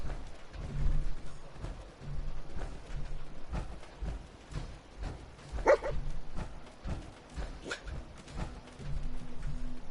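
A dog barks and whimpers in the Fallout 4 video game, short yips and barks scattered over a low game ambience, with a sharper whine near the middle.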